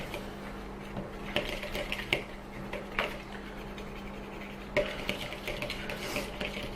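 Almond hookbait mix being stirred after a sprinkle of betaine, giving soft scraping and clinking against a bowl with a few sharper knocks, fairly quiet and close, with a steady low hum behind.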